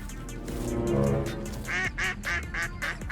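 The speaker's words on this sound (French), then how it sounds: "On dirait un canard." A duck quacks in a short burst of rapid, nasal calls, loud and close, following a few seconds of low rumbling sound.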